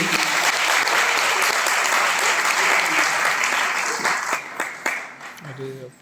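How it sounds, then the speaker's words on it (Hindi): Loud audience applause for an event sponsor, a crowd clapping densely before the clapping thins into scattered claps and fades as a voice begins speaking. "तो प्लीज इनके लिए एक जोरदार ताली होना चाहिए।"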